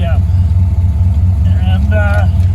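A car engine idles steadily at about 1,000 RPM with the choke off, giving a loud, constant low rumble close by, with faint tones and squeaks on top.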